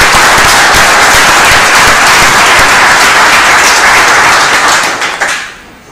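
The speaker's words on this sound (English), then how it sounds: "So I'd like to recognize her with a round of applause." Loud, dense applause from a crowd at a county board meeting, steady and sustained for about five seconds before fading out quickly at the end.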